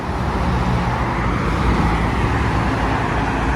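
Cars roll continuously past on a busy road in Thailand at a bridged U-turn, a loud, dense roar of traffic with no clear breaks or voices.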